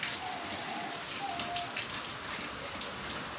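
Steady, dense rain pours down in a sudden heavy storm in Karachi, a constant hiss of drops hitting surfaces with no voices.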